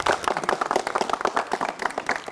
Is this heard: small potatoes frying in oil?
no